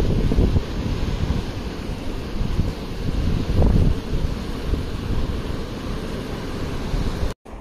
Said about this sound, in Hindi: ऊपर से झरना पानी बह रहा है।